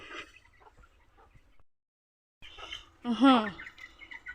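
Chickens cluck close by in short, scattered bursts, then go quiet for a moment before a louder, sharper burst of clucking and calls.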